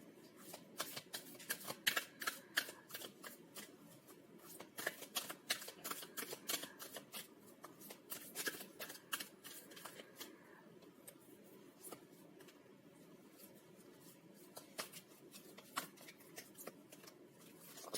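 Tarot cards are shuffled steadily by hand for a long stretch, with rapid papery riffles and flicks in close, quiet bursts and no talking.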